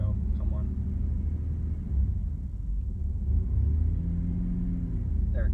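A 1994 Dodge Dakota with a transmission fault, held in drive and inching forward: a steady, loud, low engine rumble at elevated revs holds close and even throughout, with no clear change in pitch.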